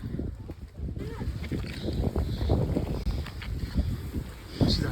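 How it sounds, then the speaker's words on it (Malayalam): Strong gusting wind buffets the microphone on a foggy hillside as rain begins, a dense low roar rising and falling throughout, with a few brief voices mixed into the rush. "നല്ല കാറ്റുണ്ട്, മഴയും പെയ്യാൻ തുടങ്ങിയിട്ടുണ്ട്"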